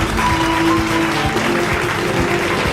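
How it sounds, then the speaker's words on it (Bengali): Sustained applause from an audience at a film award ceremony, dense steady clapping filling the hall throughout. "জোরে হাততালি"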